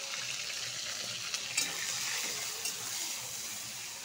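A hilsa fish head, seasoned with salt and turmeric, fries in hot oil, giving a continuous close sizzle with a few faint stirring clinks and no talking.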